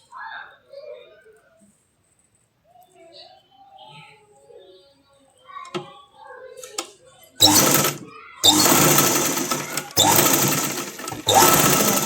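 Sewing machine stitching lace onto the lower edge of a dress, several loud bursts of rapid whirring after quiet handling noises and faint talk.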